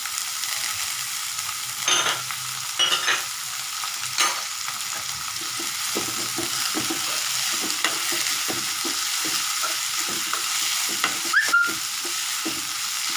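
Onions and curry leaves sauté in a pan for Chennai-style prawn thokku, a steady moderate sizzle broken by scattered scraping clicks of a stirring spoon, with a few brief louder knocks; nobody speaks.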